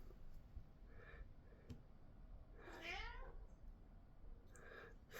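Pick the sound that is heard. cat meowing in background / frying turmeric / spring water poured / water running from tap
cat meowing in background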